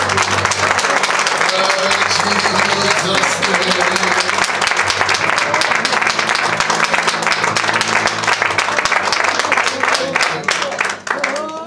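A church congregation applauds loudly and continuously during a deliverance service, dense sustained clapping filling the space, with voices and music underneath throughout.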